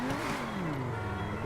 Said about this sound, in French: elle a un bon bruit, elle a un bon moteur quand même